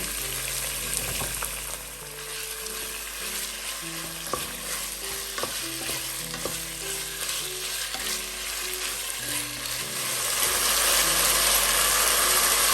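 Half a kilo of boneless chicken fries in a pan with sautéed garlic ginger paste, giving a steady close sizzle with occasional stirring scrapes that grows louder toward the end.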